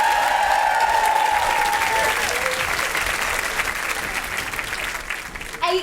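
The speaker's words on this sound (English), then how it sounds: "Can we have another round of applause for the cast of Strictly Come Surrey?" A studio audience at a live Strictly Come Surrey show breaks into loud, dense applause for the cast, sustained from start to finish and tapering slightly toward the end.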